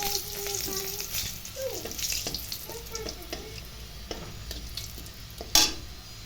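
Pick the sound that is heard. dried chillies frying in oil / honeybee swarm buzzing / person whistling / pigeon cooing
dried chillies frying in oil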